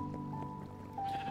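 A sheep bleats in Minecraft Dungeons, a short nasal bleat over a low game ambience with watery background sound.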